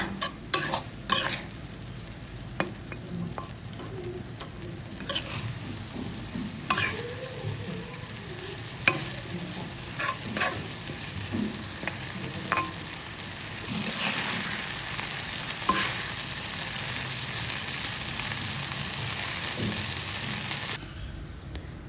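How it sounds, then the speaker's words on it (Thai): Canned fish, chili curry paste and basil leaves being stir-fried in a pan, a steady sizzle with repeated scraping and clacks of the spatula throughout, close and fairly loud. "จากนั้นก็ผัดทุกอย่างให้เข้ากันอีกรอบค่ะ แต่ให้ผัดเบาๆนะคะ"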